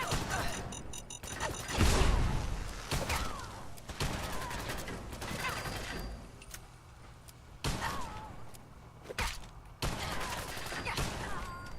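Video game gunfire sounds as bursts of shots and fusillades, loud sharp cracks recurring irregularly through the clip amid game noise and clattering, with faint talk in places.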